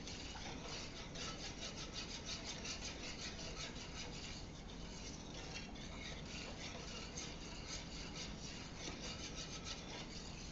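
Gravy with Worcestershire sauce whisked gently in a Dutch oven for pot roast, a continuous, steady scraping and rubbing with a fast rhythmic texture that holds evenly throughout.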